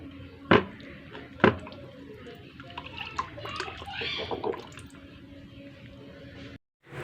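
A live magur catfish in a bucket of water makes wet gulps and splashes, two sharp splashy hits early on followed by softer irregular slurping and dripping, close up and fairly quiet.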